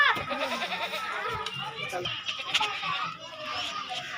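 Goats, including stocky castrated two-tooth bucks, bleat repeatedly while being loaded for cargo transport to Zafarwal, their calls mixing with nearby voices and children's chatter in a busy, noisy outdoor scene.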